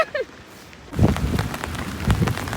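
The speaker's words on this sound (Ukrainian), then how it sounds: "В общем, ми вже попали під дощик." Rain setting in on a mountain hike as a thunderstorm closes in, a steady broadband patter that starts abruptly after a quiet opening and continues close and fairly loud.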